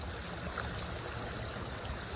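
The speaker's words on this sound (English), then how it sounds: "I love the sound of the water coming out." Irrigation water gushes out onto farmland in the early morning, making a continuous, even rushing and trickling sound with no one talking.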